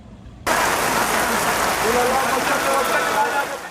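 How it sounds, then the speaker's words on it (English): Heavy winter rain in Gaza starts abruptly and pours in a loud, dense roar of drops on surfaces, steady and close for several seconds. "heavy winter rains have turned roads into rivers."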